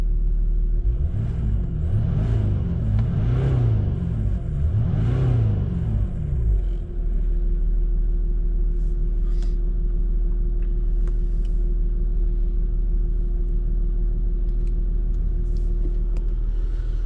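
A Jaguar S-Type 2.7D V6 twin-turbo diesel drives through Istanbul, its engine revving in a few low rising swells before settling into a steady, close, rumbling idle-like drone.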